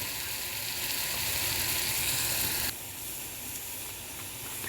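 Steady broadband sizzling and hissing of spices tempering in hot oil in a pan for dal makhani, loud and close, dropping slightly in intensity partway through, with no voices.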